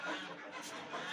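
Hens cluck softly inside a newly cleaned barn, a short, faint burst of murmuring fowl calls close by with no talking.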